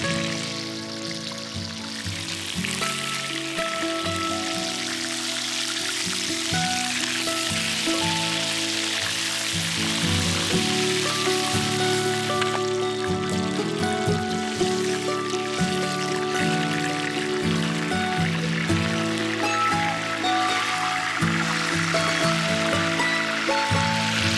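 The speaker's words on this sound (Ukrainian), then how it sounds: "Викладаємо м'ясо та обсмажуємо." Chicken meat fries in a pan with a constant, dense sizzle that hisses and crackles steadily throughout, while soft tonal background sound runs underneath.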